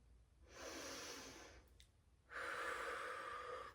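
Slow, deep belly breaths in a sound healing grounding exercise: one long airy breath followed after a pause by a louder, rougher one, close and alone.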